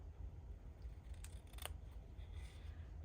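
Scissors cutting off part of a tag, a few quiet snips close by over a low background hum.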